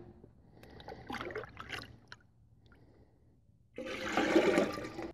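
Water is poured from a labeled five-gallon bucket into a beekeeping watering can, a short gushing splash after a few faint trickles and clinks, close by with no talk.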